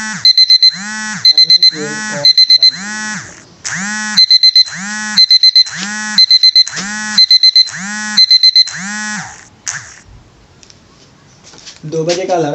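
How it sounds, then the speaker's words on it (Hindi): An alarm clock set for two o'clock rings in repeated loud bursts of bright electronic beeping, steady and rhythmic for about nine seconds before stopping, with faint indistinct sounds after. "दो बजे का अलार्म लगा हुआ था वो।"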